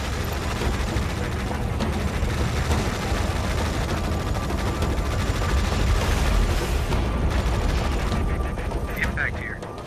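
Tom Clancy's EndWar battlefield gunfire roars as a dense, continuous barrage of rapid shots and explosions, loud throughout and fading slightly at the end, with voices underneath.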